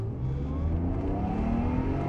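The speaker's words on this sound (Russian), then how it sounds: "давайте попробуем на динамику этот автомобиль, не особо на силу автомобиль, просто ускоримся" A BMW E34 525 sedan accelerates, its engine a steady, close mid-pitched drone with rising harmonics as the revs climb, heard alone without talk.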